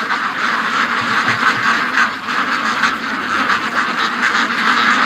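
A large flock of ducks quacks continuously nearby, a dense overlapping chorus of calls at steady volume.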